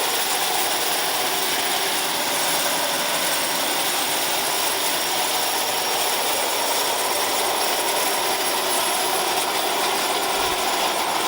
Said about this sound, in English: the propeller feathered and turning real slowly